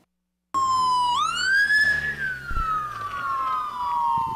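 A police siren starts abruptly after a brief silence, sweeping up then settling into a long, loud falling wail, with traffic rumble underneath.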